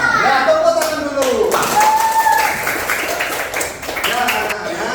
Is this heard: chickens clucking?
no